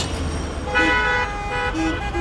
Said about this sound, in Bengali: পিছনে অন্য গাড়ির হর্ন শুরু করেছে অভদ্র আওয়াজ।